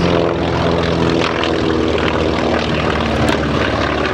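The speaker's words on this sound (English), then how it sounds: "Skyraider passing over now." Douglas A-1 Skyraider propeller warbird flying over at an airshow, a loud, steady, dense engine roar with a continuous propeller drone throughout, no talking.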